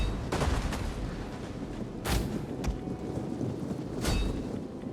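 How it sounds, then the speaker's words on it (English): Explosive ballista rounds in the Total War: Rome 2 battle, a steady rumble of distant battlefield noise broken by sharp blasts near 0.3, 2.1, 2.7 and 4.1 seconds, with no voices. "I'm actually going to fire at the big clusters with explosive rounds."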